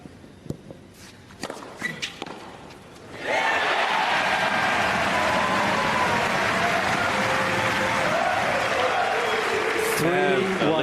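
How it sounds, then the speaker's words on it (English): A dense crowd erupts at the Australian Open 2014 tennis match, loud steady applause and cheering filling the stadium after a quieter stretch of scattered thuds and murmur. "Listen to that crowd."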